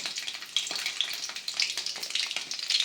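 Small onions dropped into hot oil with dried chillies sizzle and crackle steadily in a pan, a bright continuous frying hiss with small pops, close and alone with no talking.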